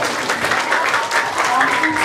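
Audience clapping at a fourth-grade class graduation at a school, a brief burst of steady, dense applause, close and fairly loud, with voices mixed in.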